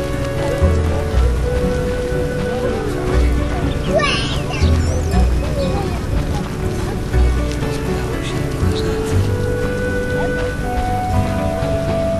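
Heavy rain falls without pause in a Witcher video game, a loud, dense hiss that fills the whole stretch, layered over low tonal game ambience.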